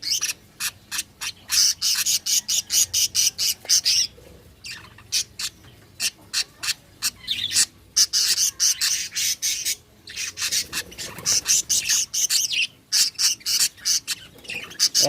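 Caged budgies (parakeets) with a baby chick chirp in rapid rhythmic bursts of sharp, close squawks and tweets, with brief pauses between runs.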